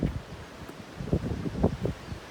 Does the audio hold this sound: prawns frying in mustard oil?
no